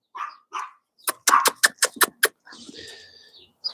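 A dog barks close by: two soft opening woofs, then a quick run of sharp, loud barks, then a quieter whine-like trailing sound at the end.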